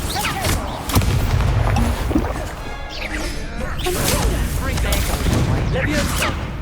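An Incendio fire spell bursts in Hogwarts Legacy amid loud, continuous combat noise, with repeated booming impacts and crashes throughout and spoken incantations mixed in.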